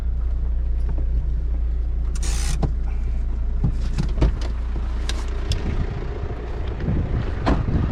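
A car on the move, its low engine and road rumble running steadily throughout, with buffeting wind, a brief whirring burst like a power window, and scattered knocks and clicks inside the cabin.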